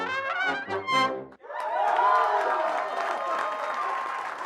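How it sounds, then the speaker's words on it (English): An audience at an orchestra concert in South Africa bursts into clapping and cheering mid-performance; a held musical chord rings at first, then a dense, sustained wash of applause and shouts follows. "they immediately started cheering and screaming and clapping, right in the middle of when we're playing"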